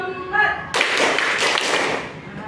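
A fourth-grade class at an Indonesian state primary school claps together in a counting icebreaker game: a brief voice, then a sudden burst of many hands clapping at once, filling the room for about two seconds.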